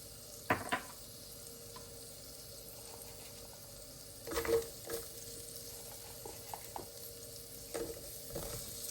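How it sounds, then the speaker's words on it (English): Apples with cinnamon, sugar and butter cooking in a pan, a quiet low sizzle beneath scattered soft clinks and a few louder bumps of a utensil against the pan. "I want to caramelize the sugar"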